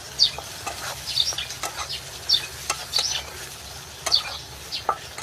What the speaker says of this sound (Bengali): দেবো হালকা চিকেন মশলা দিয়ে আমরা নাড়তে থাকবো